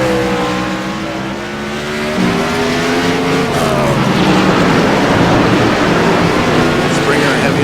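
Race cars at Sonoma Raceway braking and accelerating: loud, close engine roar with rising and falling revs, shifting pitch as cars slow and then power out, a continuous dense wall of motor noise, with race commentary talking over it.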